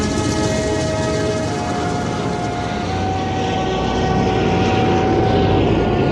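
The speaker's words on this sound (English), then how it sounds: "Lee-2 became the main aircraft of the Soviet civil fleet." A Soviet Li-2 passenger aircraft drones with a loud, continuous propeller-engine roar, steady and close throughout with a slight rise toward the end, no voices.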